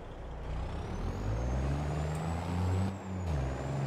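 Semi truck with a big Detroit engine pulling a short sprayer trailer loaded with water, a loud air brake hiss and release over the steady low engine rumble, close by, with no talking.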